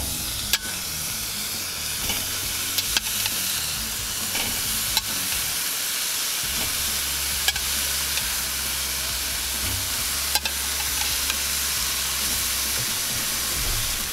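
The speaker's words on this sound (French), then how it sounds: "Je vais venir faire saisir mes boulettes au centre pour commencer." Beef burger patties searing at the center of a hot charcoal grill set up with an indirect cooking zone, giving a steady loud sizzle and hiss with a few sharp crackles and pops throughout, no voices.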